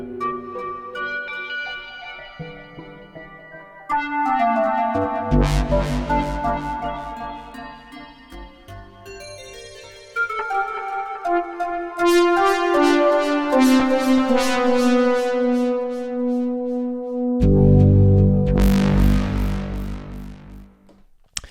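Patches on a Yamaha Montage synthesizer morph through Smart Morph with effects applied. Sustained tones shift and glide across several sections, with swelling chords and bright, dense layers, loud and alone.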